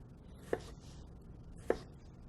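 Knife cutting vegetables into julienne strips on a cutting board, two sharp distinct chops about a second apart, close and fairly quiet, with no talk.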